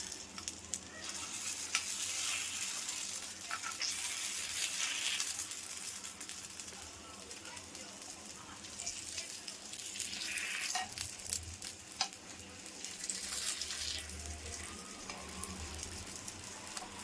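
Egg paniyaram fries in oil in a pan with a soft, continuous sizzle and crackle, close but fairly quiet, with occasional brief stirring and scraping sounds.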